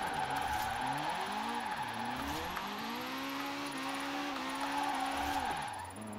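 Car drifting in Forza Horizon 4 with a third-gear drift setup: a sustained engine drone rising and falling with the throttle, overlaid with continuous tire skid noise, loud and steady throughout with no talk.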